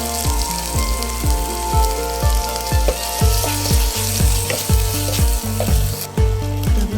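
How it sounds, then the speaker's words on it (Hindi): Ginger garlic paste fries in a pan for a fish curry, giving a loud continuous sizzle overlaid with quick, regular knocking and scraping strokes from stirring. "थोड़ा अदा रसुण पेस्ट पकईदेवा"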